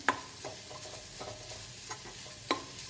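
Grated coconut roasting lightly in ghee in a pan for red rice puttu, a soft steady frying hiss with scattered scraping stir clicks, a sharper clatter near the end.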